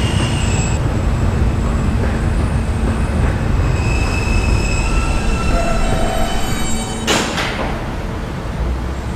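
A New York City R subway train rumbles steadily along the rails at night, with a continuous loud roar, faint high squeals and a brief clattering burst near the end.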